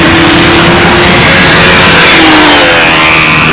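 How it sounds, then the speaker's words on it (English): A gas-powered control line model airplane engine at a 2003 contest, droning loud and continuous with a steady high buzzing tone close by, other engines running in the background. "some idiot just started up another gas motor"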